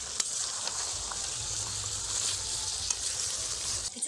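Chicken with chopped tomato, onion and capsicum sautéing in a pan, a continuous close sizzle with occasional stirring clicks and scrapes.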